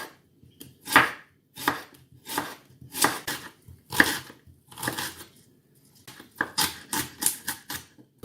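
A knife chops finely through a fresh onion on a cutting board, about a dozen crisp close-up blade strikes in irregular bursts with brief pauses, no talking.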